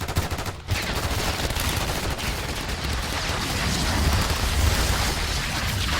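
Gunfire in the Black Ops 6 video game campaign, a dense, sustained burst of rapid shots and rumbling impacts, loud and continuous with no pause, no talk.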